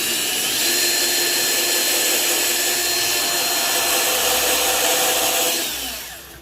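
A power drill runs steadily at full speed, boring a big hole while getting started on a chisel plow for a rider lawn mower. The loud, continuous whine fades out at the end.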